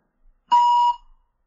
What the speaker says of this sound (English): Answer the question after the beep.